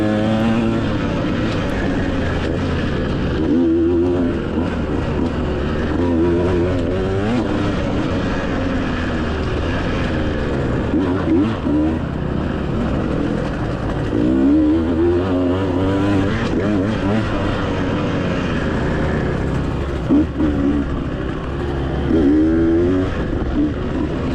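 A two-stroke dirt bike racing on flowy off-road trails at a Texas ranch, its engine droning and revving continuously close up, pitch rising and falling with throttle changes, loud with wind rush.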